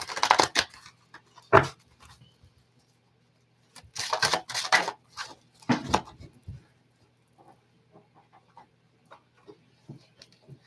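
Tarot cards being shuffled in several quick riffling bursts, close and crisp, separated by pauses with faint handling sounds.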